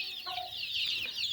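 Poultry on a farm clucking in short, repeated calls, several hens close by against a quiet background.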